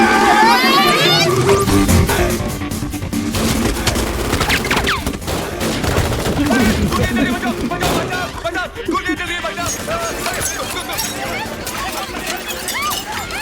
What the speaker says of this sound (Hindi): गोलियां कौन चला रहा है रे